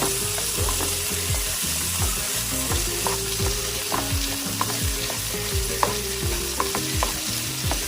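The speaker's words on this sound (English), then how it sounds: "We're going to add some minced garlic. This is the organic minced garlic. And we're going to go ahead and stir it all in together." Organic minced garlic stirred into chicken sizzling in a pan for garlic butter chicken, steady loud frying hiss with repeated utensil scrapes and clinks against the pan in an uneven rhythm, no speech.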